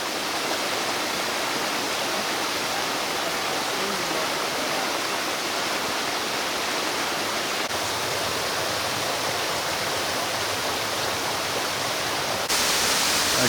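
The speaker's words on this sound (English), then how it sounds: "Okay, this is a smaller waterfall" Small waterfall and cascading rapids along a jungle trek in Laos, a dense continuous rush of falling water, loud and close, steady throughout with no voices.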